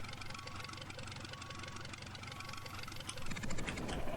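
A tractor engine idles in the Farmer's Dynasty farming video game, a steady close rumble with a rhythmic knocking pulse that grows slightly louder in the last second.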